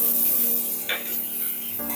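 Tomato added to softened onion stirs and cooks in a pan, a steady close sizzle with a couple of brief scraping strokes of a spoon against the pan.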